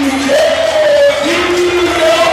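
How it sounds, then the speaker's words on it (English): A packed high school gym crowd at a Canisteo-Greenwood vs. Hornell boys' varsity basketball game cheers and yells loudly, sustained shouting and whooping voices close by. "Great crowd for both teams here tonight."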